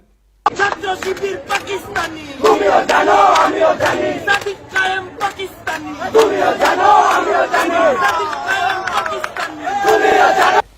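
Large crowd loudly chanting political slogans in unison at a rally, the rhythmic shouted phrases continuous and close, with sharp claps or beats punctuating the chant.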